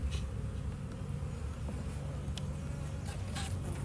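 Honeybees buzz steadily all around an open hive during inspection, a dense, close humming drone that never lets up.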